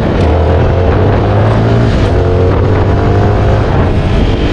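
A CFMOTO 300 NK motorcycle rides along a closed street with a loud, continuous engine drone close up, its pitch holding steady with slight shifts as the throttle changes, and no voices.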